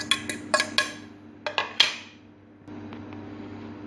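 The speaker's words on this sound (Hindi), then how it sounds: "अब इसके अंदर हम ऐड करेंगे चिकन" Shredded chicken going into an open bowl in a home kitchen: a series of sharp metallic clinks and taps of a spoon against the dish, close and distinct, then a softer low rustle.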